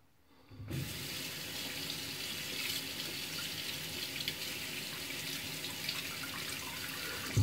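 A Harry's five-blade razor rinsed under a running tap: after a short silence, water gushes in and holds a steady, close, full splash into the sink until the end.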